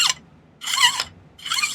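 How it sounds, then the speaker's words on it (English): A hand file rasps across silver held in a miter vise jig, giving three close, scratchy strokes with brief gaps between them. "I'll just snip off, most of it, and then file off the rest here"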